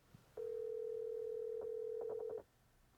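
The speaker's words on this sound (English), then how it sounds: "So calling from the Amazon device." A steady single-pitch tone sounds from an Amazon Echo Auto in-car device during a phone call, holding for about two seconds, with a few short key beeps near its end, quiet and alone.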